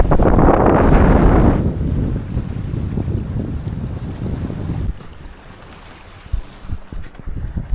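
Wind blows strongly across the microphone aboard a sailboat at sea in the Ionian, a loud rushing roar that drops back to gusty buffeting and softer water sounds.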